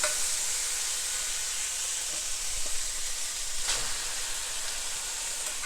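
Ramen noodles go into a hot pan with pork and vegetables and hiss in a steady, moderately loud sizzle, with a brief brighter crackle partway through.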